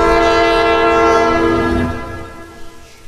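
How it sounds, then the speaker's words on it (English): A passing train in a Roblox horror game sounds a long, loud, sustained horn over rumbling wheels, which then fade as the train moves away. "a train. It was just a train."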